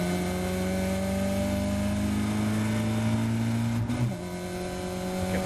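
A Caterham race car engine howls steadily at high revs on the Silverstone Grand Prix circuit, holding a loud, sustained note before a quick lift and gear change near the end.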